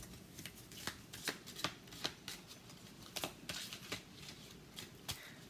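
Someone shuffles a deck of oracle cards in a quiet room, with soft riffling and slapping swishes coming in irregular quick bursts at close range and no voice.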